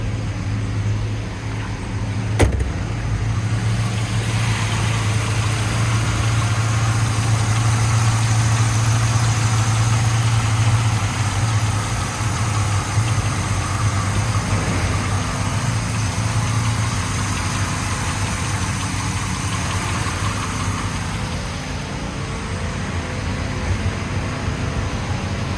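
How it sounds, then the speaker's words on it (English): A 2001 Chevrolet Camaro Z28 convertible idles steadily and close, with a deep, even engine rumble and faint mechanical whir throughout, a brief click near the start, and no voices. "We're gonna start the car up."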